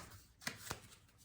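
Oracle cards being shuffled by hand, two quick crisp riffling bursts close to the microphone against a quiet background.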